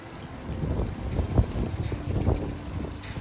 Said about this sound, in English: The flow, as the wind is blowing now. You hear the wind blowing, we feel it.